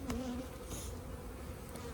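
Honey bees buzzing close by as a package is installed into an Apimaye hive, a dense steady drone with a brief higher whine, no voices.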